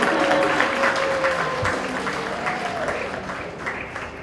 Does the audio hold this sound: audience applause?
yes